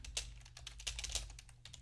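Computer keyboard keys clatter in quick, uneven taps as code is typed, close and fairly quiet over a low background hum.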